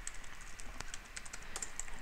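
Keys tap on a computer keyboard at a desk, a quiet, irregular run of light clicks with a few sharper strikes, heard faintly alone against a low background hiss.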